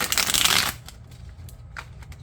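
A quick riffle of tarot cards being shuffled, a dense burst lasting under a second, followed by a few soft taps and handling sounds.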